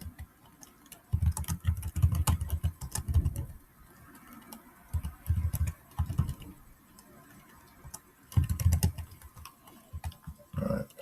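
Bursts of typing on a computer keyboard while writing Python code, clusters of quick clacks separated by short pauses, close and moderately loud, with no talk.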